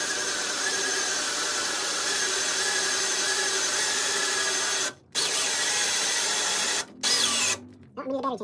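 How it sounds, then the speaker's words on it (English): A drill bores a 1 3/8 inch hole through the metal case of a K40 laser engraver, giving a steady, loud, high-pitched grinding whine that runs continuously, with two brief stops before the bit breaks through near the end. "we're going to go ahead and we're going to drill that hole"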